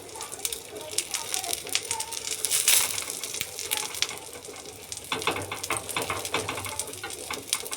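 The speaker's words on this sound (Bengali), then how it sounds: "দেখুন আমি একটা চাটুর মধ্যে তেলটা নিয়ে নিয়েছি। এবারে আমি ডিমটা দিয়ে দেবো। তেলটা গরম হয়ে গেছে।" An egg fries in hot oil on a griddle, crackling and popping with bright sizzling bursts that rise and fall, while a person talks over it.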